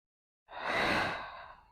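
A single long, breathy exhale during a pelvic floor and diaphragmatic breathing exercise, close and fairly loud, swelling then fading over about a second.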